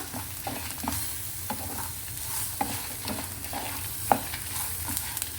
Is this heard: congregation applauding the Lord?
no